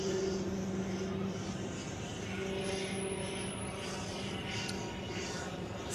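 A Swiss airliner departing from Zurich airport in freezing weather, its engines giving a steady, distant broadband roar with a low hum that holds evenly for the whole stretch, with no talk over it.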